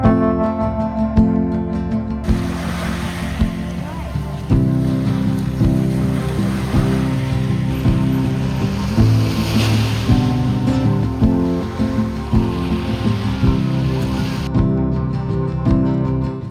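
Ocean surf rolls onto a West Oahu beach in a steady, loud wash of breaking waves, with wind buffeting the microphone over music playing throughout.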